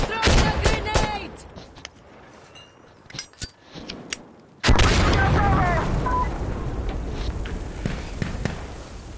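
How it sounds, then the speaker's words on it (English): Video-game combat with a thrown grenade and gunfire: loud clustered shots and bangs, a quieter lull, then a sudden heavy blast and sustained noisy battle, with excited voices shouting throughout. "I throw a grenade!"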